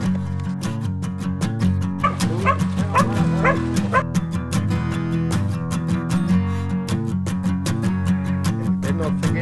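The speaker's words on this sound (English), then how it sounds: "Border Collies out there in the bush doing what they do best." Border Collies working in the bush, where boar are hunted, bark and yip in repeated bursts, mostly at mid-distance and partly under a continuous music bed.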